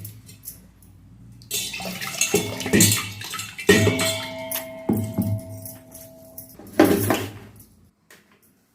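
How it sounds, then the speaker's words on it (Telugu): Water is added to soaked urad dal batter for idli grinding, with splashy pours and clinks of a vessel in bursts, alternating with quieter gaps in a kitchen. "కొంచెం నీళ్ళు వేయాలి, లేదా మెదగదు."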